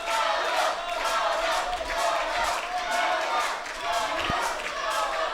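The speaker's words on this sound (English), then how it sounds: "And the crowd behind Yolo." A crowd cheers and chants steadily at a pro wrestling event, a dense, continuous roar of voices with some shouting and a single thud partway through.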